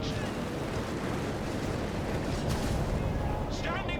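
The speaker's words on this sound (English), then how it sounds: "Got the Hawker Typhoons unleashing the rockets here." Hawker Typhoon rocket strikes in Company of Heroes 3, a dense rumbling barrage of explosions and blasts merging into a continuous roar, with a voice speaking faintly over the battle noise.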